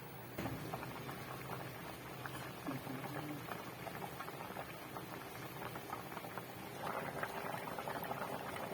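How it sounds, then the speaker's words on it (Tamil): Tamil mixed-vegetable curry with drumsticks simmers in a pot, bubbling and popping softly and continuously, close by and quiet. "குழம்பு நல்லா கொதிக்கட்டும்"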